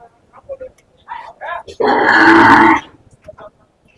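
A Gir cow at a cattle market in Dhule gives one loud, drawn-out moo of about a second, close by, with people talking briefly before and after.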